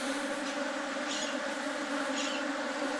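Honeybees buzz steadily around a managed hive holding a merged colony, a dense continuous drone filling the whole stretch at moderate level with no voices.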